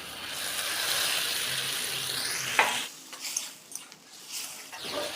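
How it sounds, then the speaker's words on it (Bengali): Fried okra going into a simmering spiced yogurt gravy for okra dopeyaza: a loud steady pan sizzle drops away to a quieter bubbling simmer, with light clatter from the pan and utensils. "এরপর মশলাটি ফুটে আসলে দিয়ে দেবো ভেজে রাখা ঢ্যাঁড়স"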